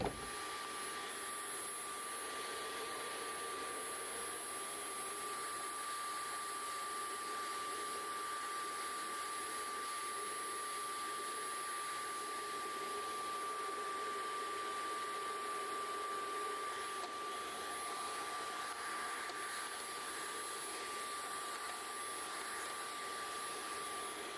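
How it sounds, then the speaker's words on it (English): A vacuum cleaner runs steadily and close by while cleaning the filters, brush roll and dustbin of a Shark robot vacuum, a constant broadband whine with no break and no voices. "So let's get my vacuum and work on this real quick."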